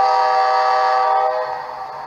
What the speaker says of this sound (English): We have function 2 is the horn, or function 1 is the bell.